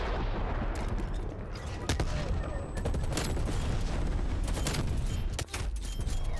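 Sustained heavy gunfire from a gunship strafe run in a video game, a dense continuous barrage with repeated sharp shots and booms, loud and close, filling the whole stretch.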